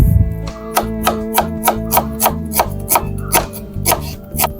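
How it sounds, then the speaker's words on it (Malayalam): A medium-size onion being chopped with a knife on a board for a drumstick and tomato curry, about a dozen crisp, evenly spaced knife strikes sounding close and alone. "നമുക്കൊരു മീഡിയം സൈസ് സവോളയും കൂടെ നരിഞ്ഞെടുക്കാം"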